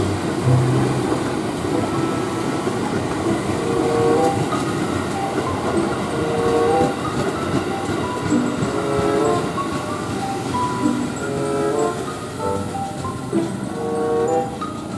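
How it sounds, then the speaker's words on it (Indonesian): A train rolls past on the rail line near Pondok Jati, a steady loud rumble with rhythmic wheel clatter and metallic squeals filling the whole stretch, with no talk. "Ada kereta lagi di belakang saya,"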